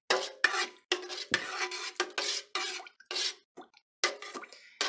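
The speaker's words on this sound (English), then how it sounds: "And now all that's to it is just to stir." A spoon stirring coquito mix in a pot, giving repeated scraping and clinking strokes in an irregular rhythm with short pauses between them, close and fairly quiet.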